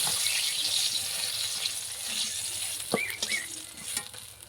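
Eggplant pieces frying in hot oil in a home kitchen, a soft continuous sizzle with a few sharp clinks and scrapes of a utensil partway through, fairly quiet and close, with no talking.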